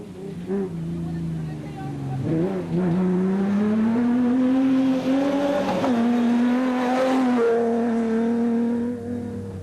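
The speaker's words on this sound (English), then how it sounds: "Peter Ruthven and Deval Boshoff were also making their first SP class appearance in one of the ex-factory Ford Rangers and were being chased by George and Sharon Barkhuizen in the AIM Toyota Hilux" Ford Ranger and Toyota Hilux rally trucks racing in the 2009 Adenco 400: loud, continuous engine drone that rises and falls in pitch as they accelerate, with a voice speaking over it.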